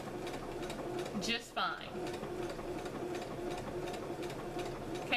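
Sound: sewing machine sewing swimsuit top

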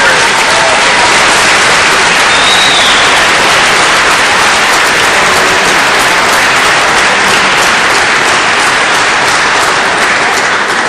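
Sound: audience applause after tango performance

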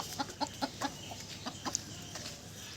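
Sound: chickens clucking

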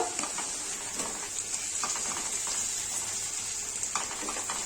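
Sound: onions frying in a pan

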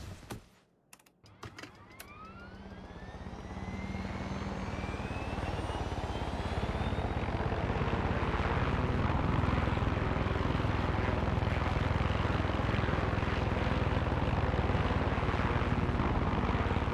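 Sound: helicopter flying in the video game Far Cry 6

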